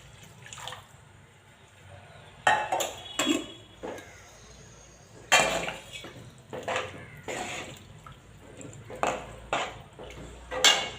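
A cup of water is poured into a pot of tamarind vathal kulambu, with scattered clinks of utensils and pot, sloshing and dripping bursts close by, and no talk.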